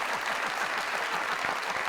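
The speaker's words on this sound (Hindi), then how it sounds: "तालियां दो।" Audience applause at a comedy talk show taping, an even, sustained patter of many hands clapping throughout, fairly close and steady with no voices on top.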